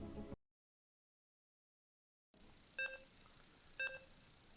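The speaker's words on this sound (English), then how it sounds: "Alright, you guys are hearing the beeps. Beep, beep, boop." Two short electronic beeps, each a crisp multi-tone blip about a second apart, sound over a quiet hiss during a StarCraft tournament broadcast break, after a stretch of total silence.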